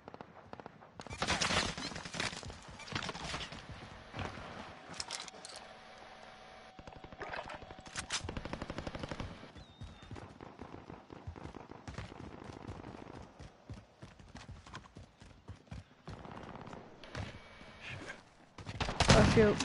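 Rapid gunfire in a multiplayer shooter video game, with dense bursts and volleys of shots and scattered single cracks continuing throughout, some close and loud, others farther off.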